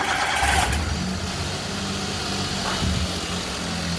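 An engine is running steadily at a low, even rumble, close and fairly loud, with a brief rougher burst at the start, for a vehicle started with a key.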